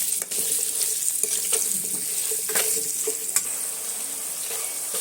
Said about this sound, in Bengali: এবার আমি আলুগুলো তেলের মধ্যে দিয়ে আলুগুলো সুন্দর করে নেড়ে চেড়ে লাল লাল করে একটু ভেজে নেব।